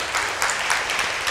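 Applause from a church congregation, a steady dense wash of many hands clapping close by, continuous and fairly loud with slight swells throughout.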